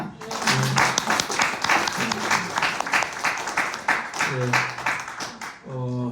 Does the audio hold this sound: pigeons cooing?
no